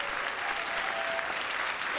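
Dense, steady applause from a theatre audience standing for a mime artist's final bow, a continuous wash of many hands clapping at close range with a faint thin tone running through it.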